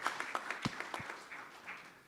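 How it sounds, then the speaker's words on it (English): Audience at a business networking event claps briefly and sparsely, a thin scattering of hand claps that fades within about two seconds. "Round of applause, everyone."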